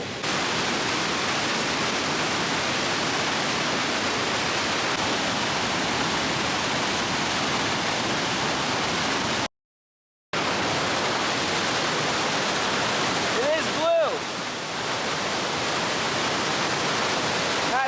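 A loud, steady roar of falling water from a waterfall in Banff National Park fills the scene, broadband and unbroken apart from a brief cut, with no talking.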